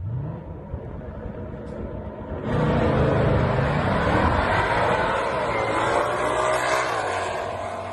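A supercharged Ford Shelby GT500 makes a drag racing run, its engine roaring loudly after a quieter start and sweeping up in pitch through the gears as it pulls away.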